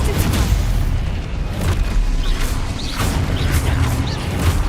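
Explosive spell impacts in the game Hogwarts Legacy, a run of heavy booms and crashes with crackling debris layered over dense combat noise, several blasts in quick succession, with voice calls mixed in.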